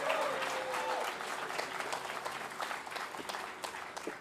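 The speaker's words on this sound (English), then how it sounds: "That could be an applause, guys." Applause at a press conference on the North DeKalb Mall demolition, a soft, distant-sounding crowd clapping that rolls on steadily with some brief whistle-like tones early on.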